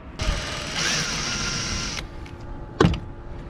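A power drill drives screws into a wooden boat during fuel tank restoration work: a steady, close motor whine lasting about two seconds, followed by a sharp knock.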